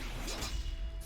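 A quick whooshing swing ends in a dull impact thud in a war strategy video game, one short hit heard alone at moderate loudness.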